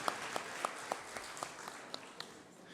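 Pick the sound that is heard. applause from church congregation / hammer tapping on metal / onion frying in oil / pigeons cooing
applause from church congregation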